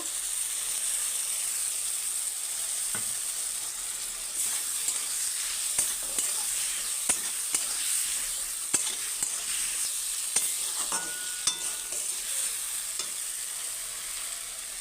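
A paste of cumin powder, coriander powder, Kashmiri chilli and turmeric fries in oil, a constant bright sizzle with occasional light clicks and scrapes of stirring, close and steady with no talk.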